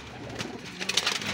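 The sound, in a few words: pigeons cooing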